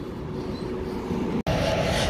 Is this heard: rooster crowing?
no